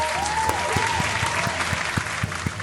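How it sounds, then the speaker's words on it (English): A round of applause, brief steady clapping from a group with distinct individual claps standing out over a dense wash. "Here's a round of applause to the exponential growth that we're seeing here on the channel."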